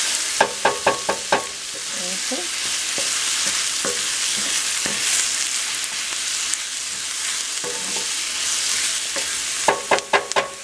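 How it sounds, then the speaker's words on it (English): Seasoning sautéing in a pot for meatball spaghetti soup, a continuous sizzle close by, punctuated by quick bursts of spoon taps against the pot rim at the start and end. "while that's sauteing, you want to make sure that it's sauteed"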